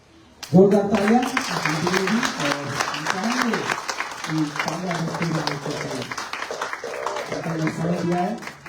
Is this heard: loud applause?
yes